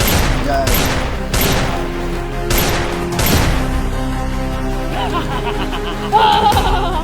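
Rapid bursts of staged gunfire from a comic Bhojpuri sketch about terrorists, several loud shots in the first few seconds and another near the end, with shouting voices over a busy background.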